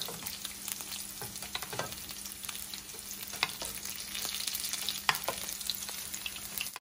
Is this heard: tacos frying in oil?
yes